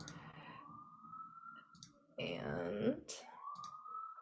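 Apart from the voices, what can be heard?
ambulance siren passing outside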